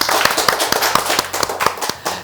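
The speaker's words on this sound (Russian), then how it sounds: "давайте поаплодируем" Live audience clapping at a Russian stage show, a loud close burst of quick individual hand claps with a sharp irregular rhythm.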